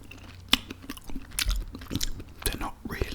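Hot and spicy chicken wings being eaten up close, with soft wet bites, chewing and occasional crunches in quick irregular succession, faint and intimate, with a little low murmuring in between.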